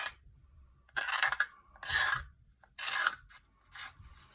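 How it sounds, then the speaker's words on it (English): A deburring tool scraping burrs off a metal edge in about four short, rasping strokes with brief pauses between them, close by and fairly quiet, with no talking. "You can see the burrs on here that we're trying to get rid of. Look, literally a couple of scrapes."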